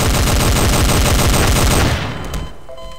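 Rapid automatic gunfire from a backup weapon in Garry's Mod, loud and continuous for about two seconds before cutting off, leaving a faint tail with a few small clicks.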